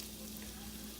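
Sliced peppers fry in a skillet for vegetable lo mein, giving a steady, close sizzle that holds evenly throughout with no talking.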